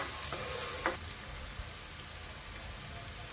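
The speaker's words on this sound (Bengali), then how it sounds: "মরিচটাকে একটু নেড়ে মিশিয়ে নেব।" Green chillies are stirred into a frying taki fish mixture, with a dense, close crackling sizzle and a few scraping spatula strokes and one brief clack. The sizzle is steady, almost like rain, and there are no voices.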